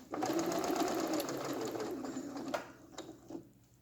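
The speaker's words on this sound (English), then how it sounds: "I'm going to continue to stitch just a little bit more so I don't have to hand sew as much" A sewing machine runs steadily, stitching the neckline of a lined tabard, with a continuous close mechanical whir that slows and stops near the end, followed by a few small clicks and handling sounds.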